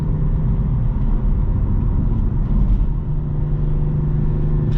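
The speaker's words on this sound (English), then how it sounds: "transmission just quickly shifts" A 2018 BMW M4 Convertible Competition with DCT transmission driving, heard from inside as a loud, steady low engine and road rumble with no distinct shift breaks audible.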